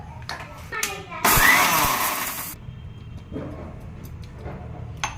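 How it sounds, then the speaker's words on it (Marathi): A kitchen mixer grinder whirs briefly, a loud burst of about a second as mustard seeds are given a light spin, with someone talking before and after it. "मोहरी थोडीशी मिक्सरमध्ये फिरवून एकदम थोडीशी लाईट फिरवायची"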